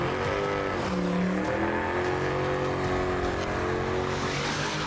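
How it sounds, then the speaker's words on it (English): A street car does a hoon-style burnout, engine revving hard with shifting pitch while the tires squeal and skid continuously, loud and close, with no voices over it. "And it never takes long for rubber to start burning."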